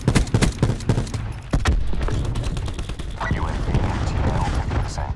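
A Call of Duty: Black Ops 4 weapon fires a quick string of sharp, close shots, then gives way to a dense, noisy stretch of game sound with a voice mixed in.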